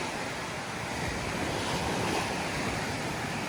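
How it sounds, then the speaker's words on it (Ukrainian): Black Sea waves wash steadily onto a beach, a dense, continuous roar of surf with wind buffeting the microphone and no talk. "Трішки моря вам, бо так засумували ми за морем."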